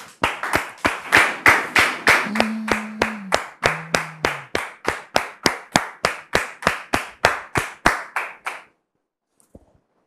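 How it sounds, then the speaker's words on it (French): An audience claps in a steady, rhythmic unison beat for about eight seconds, loud and close, with a brief sustained tone under the early claps before the clapping stops abruptly and the room falls quiet. "On le reçoit maintenant sous vos applaudissements."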